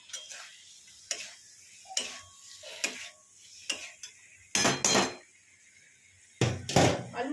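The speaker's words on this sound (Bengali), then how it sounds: "এবার আমি এতে আলুগুলো দিয়ে দেবো।" Potatoes being added to fried spices in a pan for papad curry: a series of separate clinks and knocks of utensil on the pan, a few louder sizzling bursts near the end, in an otherwise quiet kitchen.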